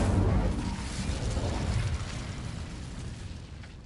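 In Hogwarts Legacy, the Incendio fire spell goes off as a deep rumbling blast that swells at once and slowly dies away over a few seconds, loud and close with no talk.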